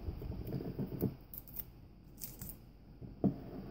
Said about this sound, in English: So then you peel off all the labels